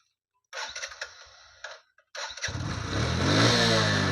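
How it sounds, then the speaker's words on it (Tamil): A CD 100 motorcycle with a new battery cranks on its electric self-starter in short bursts, pauses briefly, then fires up and settles into a steady, close idle that grows slightly louder. "அதே மாதிரி இந்த வண்டிக்கு செல்ஃபு போடுறேன் பாருங்கள்."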